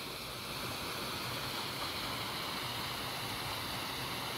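A waterfall at a forest gorge pours in a constant broadband rush, steady and unbroken, fairly quiet overall with no voices.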